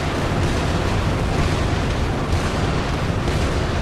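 Dense, continuous booming barrage of sniper shells firing at attacking biters in modded Factorio, a loud unbroken wall of overlapping explosive thumps with no gaps.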